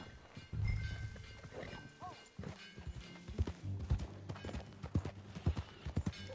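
Horse hooves clip-clopping as a rider moves off in the video game Red Dead Redemption 2, a steady near rhythm of hoof falls on the ground with a brief whinny and snorts early on.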